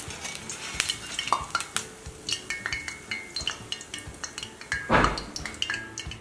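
Urad dal vadas frying in hot oil: a close crackling sizzle broken by repeated metal clinks and scrapes of a spoon or slotted ladle against the pan, with a brief louder splash-like burst midway, no speech.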